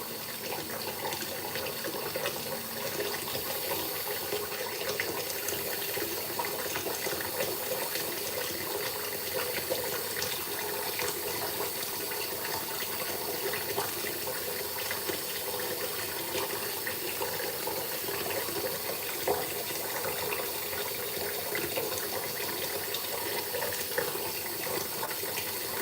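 Tap water runs continuously into a sink during beard washing, a steady close hiss and splash that stays even throughout with no talking.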